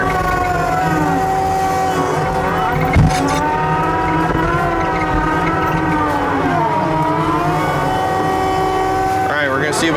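A heavily modified TV620B skid steer with rebuilt rear valving runs loud and steady up close, its engine drone and hydraulic whine bending in pitch as it works, with a brief knock near the three-second mark.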